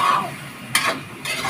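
Food stirred in a cooking pan while making adobo with gravy, soft sizzling frying under two brief scraping clinks of a utensil against the pan, close and fairly loud.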